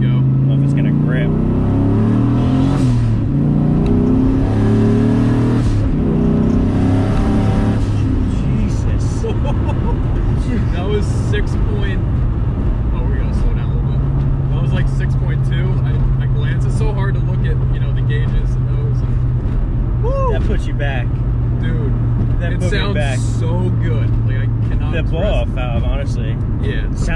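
A 435 hp turbocharged S650 Mustang's engine revs hard and accelerates in second gear, a loud steady drone with rising pitch, heard up close throughout with no talking.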